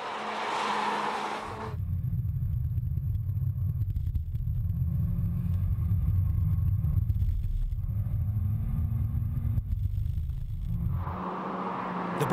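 Skoda Fabia RS driven hard on a test, a loud close engine drone that holds steady for about nine seconds and swells slightly mid-run, framed by brief stretches of talk at the start and end.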